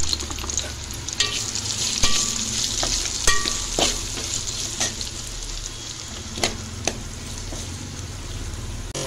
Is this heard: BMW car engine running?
no